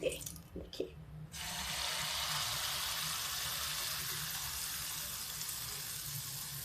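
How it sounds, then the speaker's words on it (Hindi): Malpua batter hitting hot oil in a small pan, sparse clinks at first giving way to a steady, close, even sizzle that continues to the end without speech. "अब इसको देखिए ये चमचा भर के एक जगह पे डालेंगे।"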